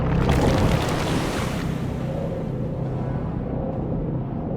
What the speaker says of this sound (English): Gathered evilness then burst the nearby dam, and the Alliance's camp disappeared under waves of water with a very satisfactory gurgling sound.